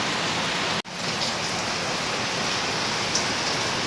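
Steady, heavy typhoon rain pouring down before dawn as a dense continuous hiss, close and loud, with no voices.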